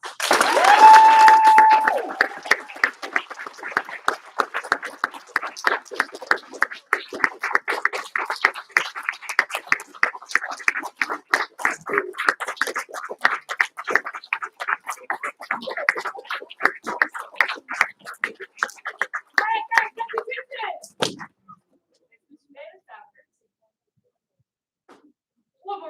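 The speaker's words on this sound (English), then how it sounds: "You guys are going to give him a huge round of applause" Applause from a group in a martial arts class honoring a student earning his white belt, dense clapping for about twenty seconds that thins out and stops, with a brief voice near the start.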